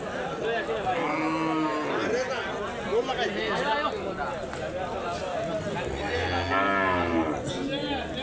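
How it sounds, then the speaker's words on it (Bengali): Several cows moo in long, low calls amid a busy crowd of people chatting at a cattle market, with the lowing rising clearly over the market noise. "এই যে গরুগুলো গরুগুলা বিক্রি করে নাই"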